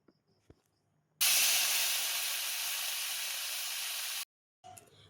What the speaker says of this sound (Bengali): ফুল চিংড়িটা এবারে আমি ভালো করে ভেজে নেব